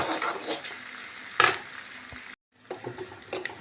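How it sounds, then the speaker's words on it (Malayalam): Onion and curry leaves with dried red chillies sauté in hot oil in a pan, giving a soft continuous sizzle with a sharper spatula scrape, then a brief silence before the frying returns. "കുറച്ച് കറിവേപ്പില, ഒരു സവാള ആയിരിക്കും. ചെറുതായിട്ടൊന്ന് വഴറ്റി."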